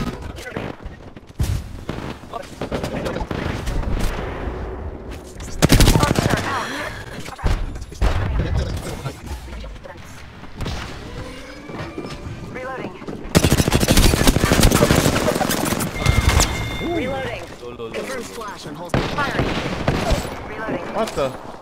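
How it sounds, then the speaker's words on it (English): Gunfire in the video game Apex Legends: bursts of rapid automatic shots and heavier booms come in waves, loudest in dense volleys through the middle, mixed with game effects and a player talking over the action. "What the? Taking fire."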